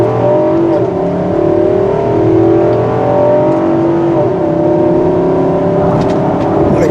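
A 2022 Infiniti QX80 SUV with a 5.6-liter V8 accelerates hard, its engine note rising steadily and loudly from inside the cabin as it hauls the heavy vehicle.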